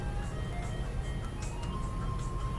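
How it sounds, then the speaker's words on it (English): A Good Humor ice cream truck plays its tinkling chime melody faintly in the background, thin tones drifting over steady low outdoor traffic rumble. "I know you hear the good humor, man, in the background here."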